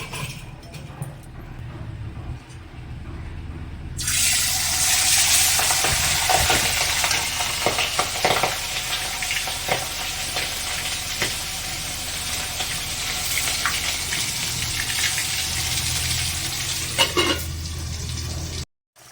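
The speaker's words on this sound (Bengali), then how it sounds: "তেলটা আমার গরম হয়ে গেছে এবার আমি আস্তে আস্তে মাছগুলোকে গ্যাসে কড়াইতে দিয়ে দেবো" Pabda fish dropped into hot oil in a gas-fired wok, a quiet start then a sudden loud burst of sizzling that stays strong and steady with occasional crackles, before stopping abruptly.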